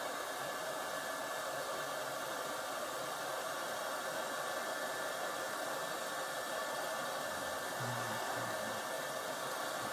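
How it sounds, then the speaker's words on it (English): A hot air rework blower at full airflow and about 400 °C drying alcohol off a Siemens OP77A operator panel circuit board, a steady loud whooshing hiss that runs unbroken and close throughout. "So full blast air and 400 odd degrees Celsius"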